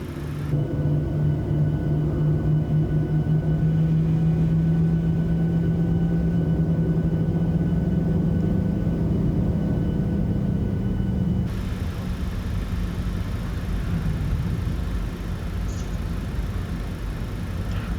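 A Boeing 737-600 in a flight simulator game taxiing at St. Thomas, steady jet engine rumble and hum with a droning low tone that drops partway through, continuous and close.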